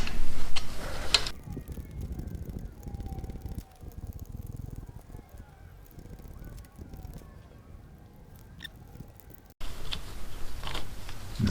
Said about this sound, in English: what I'm going to do first is remove these two bolts and take the breather off